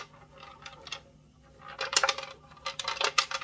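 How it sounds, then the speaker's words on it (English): A fallen soundpost rattles loose inside a violin body as the instrument is tipped, giving two bursts of light wooden clattering and knocking, close and fairly quiet with short pauses between. "So what's rattling around in there is the soundpost."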